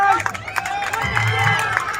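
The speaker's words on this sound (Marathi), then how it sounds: "यावेळेला टाळ्यांचा गजर होतोय" Crowd applauding and cheering at a kabaddi match, dense continuous clapping and crowd noise close by, with voices shouting within it.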